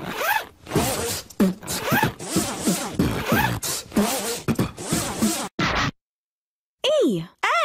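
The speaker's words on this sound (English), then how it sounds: "Z. Zipper." A clothing zipper pulled rapidly back and forth about a dozen times, loud and close, in quick rasping strokes, then a short silence followed by a brief voice.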